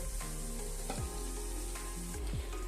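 Cauliflower stems and potatoes simmer in a covered pan with a little water over medium heat, giving a steady sizzle and bubbling, with a couple of soft clinks and scrapes throughout.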